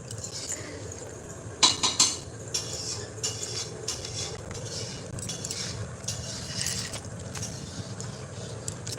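Cooking utensils clink and scrape against pots while a mother cooks meat on a rooftop, with a few sharper metallic knocks early on and then lighter intermittent clatter at close range.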